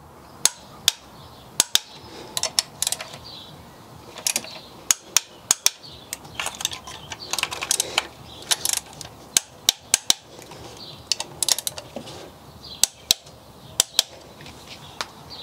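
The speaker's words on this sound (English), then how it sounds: "now I'm going to torque all these clamps down to 26 newton meters" A torque wrench tightens the diesel injector clamps on a car engine, producing sharp, close metallic clicks in irregular clusters amid quieter ratcheting and tool handling.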